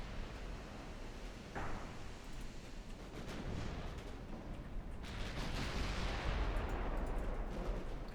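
Heavy naval main-battery salvos from warships in Ultimate Admiral Dreadnoughts, a dense rumbling barrage of booming gunfire that builds louder toward the end, with a sharp report near the start.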